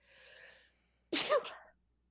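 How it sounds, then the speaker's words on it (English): A single close, sharp sneeze bursts out after a faint breathy intake, short and loud against otherwise quiet surroundings. "And I'm going to sneeze."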